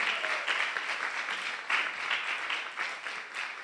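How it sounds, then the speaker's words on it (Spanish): A church congregation gives sustained applause for the King, a steady dense roar of many hands clapping at a moderate distance with no voices over it. "Dale un fuerte aplauso al Rey"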